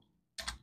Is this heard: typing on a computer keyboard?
yes